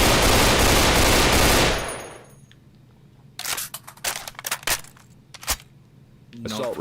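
Assault rifle fire in Left 4 Dead 2: a long loud sustained burst of automatic shots, then a quieter stretch followed by several sharp separate bursts and single cracks.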